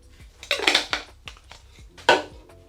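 Fifty grams of sugar poured into a glass brewing jar for hard apricot soda, a few close clinks and rattling pours against the jar, short bursts with pauses, no talking.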